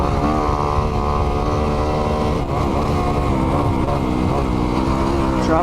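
A 2021 Kawasaki KX 250X dirt bike roars loudly at close range as it is ridden, its engine holding a strong buzzing drone with brief dips and climbs in revs.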